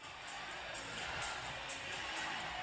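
A hockey arena crowd roars after a game-tying playoff goal between the Florida Everblades and Orlando Solar Bears, a steady, broad wash of cheering that swells slightly and holds without letup.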